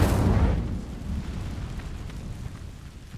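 A fire spell in Hogwarts Legacy sets dry vines ablaze, opening with a loud rushing whoosh of igniting flames that settles into a steady, softer crackling burn, with no voices over it.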